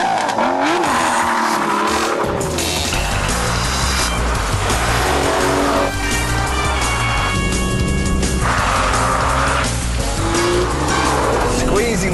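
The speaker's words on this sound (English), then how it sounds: "start the engine" An Aston Martin Vantage V12 fires up and revs hard, its engine note rising and falling loudly and continuously with aggressive, sustained roaring throughout.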